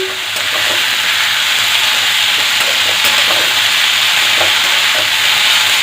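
Red spinach fries in a pan over a medium gas flame, a loud, dense, continuous sizzle with faint stirring scrapes underneath, close and unbroken throughout.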